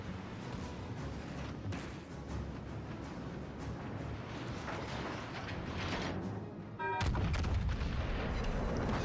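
Warship artillery broadsides in the naval video game World of Warships, a dense, continuous barrage of deep booming gunfire with rumbling blasts, louder and heavier toward the end, no talking.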